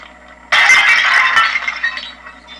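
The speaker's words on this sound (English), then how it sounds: "This, I think, is a porcelain tea service in the style of Louis XV." Porcelain tea service in the style of Louis XV smashing in the game Bioshock 2: a sudden loud crash of breaking china and clinking shards that rattles on and slowly settles, with no talk.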